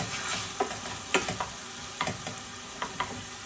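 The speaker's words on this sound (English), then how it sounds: "Cooking down that bacon nicely." Bacon frying in a pan for lasagna, giving a steady close sizzle and crackle, with intermittent scraping clicks as it is stirred, and no voices.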